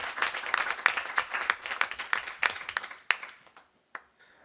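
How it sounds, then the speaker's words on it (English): Applause for a girls soccer team at a school board meeting, a steady burst of many people clapping together that thins out into a few last scattered claps. "can we give our girls soccer team a round of applause?"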